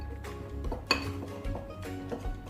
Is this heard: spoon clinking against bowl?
yes